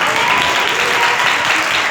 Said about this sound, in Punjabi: ਯਿਸੂ ਮਸੀਹ ਦਾ ਨਾਮ ਤੇ ਤਾੜੀਆਂ ਮਾਰੋ